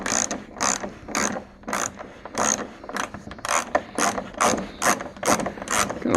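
A ratchet clicks in quick rhythmic bursts, about a dozen strokes close up, loosening bolts on the rear aero wing of a 1991 Firebird Trans Am.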